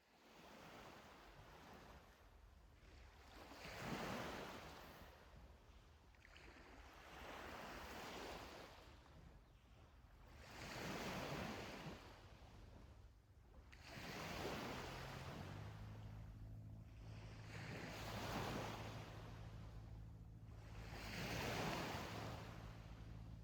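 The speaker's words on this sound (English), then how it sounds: "I'm loving this beachside workout to the sound of the ocean." Ocean waves breaking on a beach, a slow series of about six soft swells rising and falling every few seconds, with light wind buffeting the microphone and a quiet low tone entering partway through.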